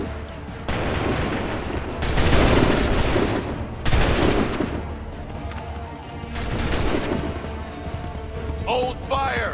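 Musket volleys boom out in Assassin's Creed III, several loud massed bursts of gunfire rolling in waves with shouted commands between them.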